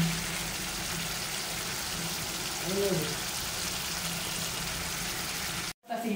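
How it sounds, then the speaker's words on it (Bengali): Chicken curry sautéing in a pan gives a steady, close sizzle that runs unbroken for the whole stretch, then cuts out abruptly just before the end, with no talking over it. "এই দেখেন আমার কষানো হয়ে গেছে"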